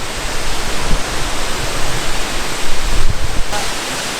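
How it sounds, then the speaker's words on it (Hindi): Strong spray from a waterfall in Fulufjället National Park, Sweden, close by as a steady, loud broadband roar with no voices, swelling slightly near the end. "अब जो पानी की फवार है ना वो बहुत तेज़ हो गई है"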